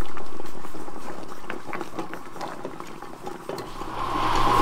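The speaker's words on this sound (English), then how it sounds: "You just sterilize them in the boiling water for 5 minutes" Water at a rolling boil in a pot sterilizing canning jars, lids and rings, bubbling continuously with close, dense popping and churning that swells slightly toward the end.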